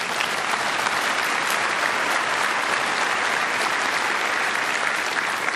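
A church congregation claps steadily for the whole stretch, a dense, full-room applause that stays loud and even from start to finish with no voices rising above it.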